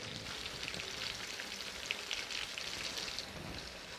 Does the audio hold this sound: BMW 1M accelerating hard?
no